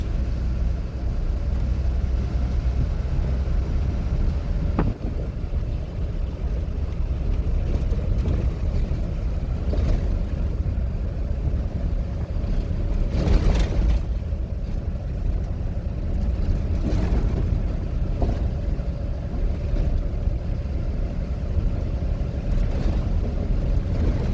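A manual car cruises in fifth gear, giving a steady, even engine drone and road rumble that holds constant with no gear change or talking.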